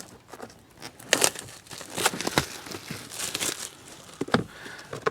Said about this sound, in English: so I'll just cut this bit of plastic